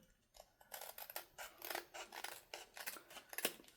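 Scissors trim paper for an envelope journaling pocket, a string of crisp close snips and slicing strokes in quick uneven rhythm, quiet and alone.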